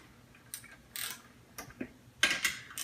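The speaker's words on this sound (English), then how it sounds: "Again, I like this ratcheting wrench." Craftsman ratcheting wrench tightening bolts on a PowerBlock dip station, giving short bursts of light clicking ratchet ticks in uneven spurts, close and fairly quiet, with no talking.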